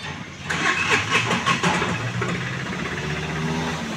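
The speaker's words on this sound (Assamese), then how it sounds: "আৰু একেবাৰে হাফ সেলফতে এখন ষ্টাৰ্ট হৈছিলে" Tata Ace Gold 2021 diesel pickup cranking with a short starter whir, then catching and settling into a steady, rumbling near idle with a fine mechanical rattle.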